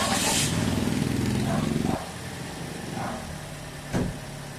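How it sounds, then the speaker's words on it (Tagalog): A Toyota Vios car engine runs loudly at first, then settles to a lower, steady idle, with someone talking over it throughout. "Tsaka nyo ngayon pa-start na itong makina."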